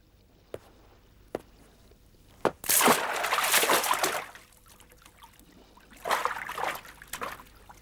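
A few sharp knocks, then two bursts of loud splashing and sloshing water close by as people go into the water, with quiet pauses between them.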